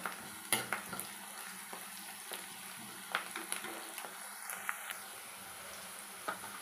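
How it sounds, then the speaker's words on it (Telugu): Onions frying in a pan for chicken curry, a soft, steady sizzle close by with scattered light clicks of stirring, no talk. "ఉల్లిగడ్డ మంచిగా ఫ్రై అవ్వాలి"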